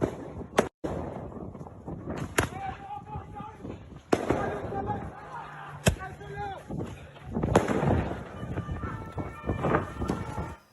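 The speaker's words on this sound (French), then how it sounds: "tir de mortier d'artifice contre les forces de l'ordre et des jeunes qui crient « tuez-les »" Firework mortars are fired at police amid street unrest in Poissy, France, with sharp loud bangs and crackles at irregular intervals, young people shouting and yelling in between, and a faint siren wailing in the background.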